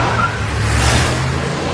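In a movie action scene, a car pulls away with a loud, close, sustained engine roar and a brief tire squeal near the start, with no talking.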